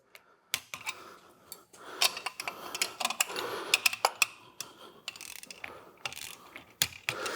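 A 15 mm box end wrench working on a car AC compressor bracket: irregular metallic ratcheting clicks and clanks close by, in short bursts with pauses, no talking.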